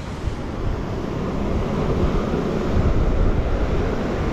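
Strong wind roars and buffets the microphone over crashing surf on a Crimean beach in winter, a steady loud wash with no talk.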